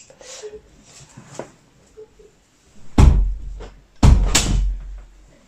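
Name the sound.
door closing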